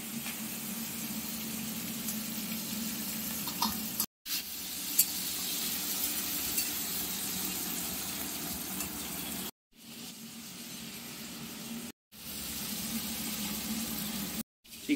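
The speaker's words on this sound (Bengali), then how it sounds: "নুন হলুদ দিয়ে মেখে রাখা চিংড়ি মাছ আগে ভেজে নেওয়া।" Prawns coated in salt and turmeric sizzle steadily in hot oil, a close, even hiss of frying that continues with a few brief cuts of silence.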